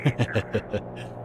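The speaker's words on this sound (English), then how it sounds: "that noise you hear will be me munching down on a little dinner" Close, crunchy chewing of dinner, about five quick rhythmic bites in a row, then quieter chewing fading out.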